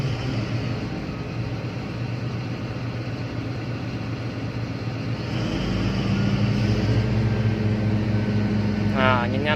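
The engine of a Caterpillar 785C haul truck idles with a rough, low rumble, then is revved at the midpoint into a louder, deeper, sustained roar. A faint hiss and a warbling tone rise near the end.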